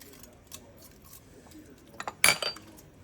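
Stainless or metal spoon clinking and scraping inside a pot as brisket ingredients and bay leaves are mixed, a few quiet knocks then a brief louder cluster of clinks near the end.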